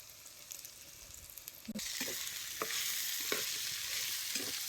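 Gram flour is stirred and roasted in hot oil in a pan for a mixed leafy-vegetable curry with potato and green peas, giving a steady close sizzle with scraping stir strokes that grows louder partway through.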